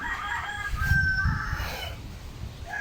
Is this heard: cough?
no